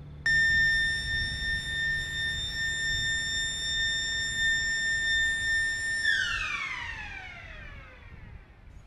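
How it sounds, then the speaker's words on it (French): A strident warning siren at a dam in New Zealand sounds a long steady wailing tone before winding down, loud and close over a low rumble of rushing water. "c'est une sirène stridente qui annonce le début de la représentation"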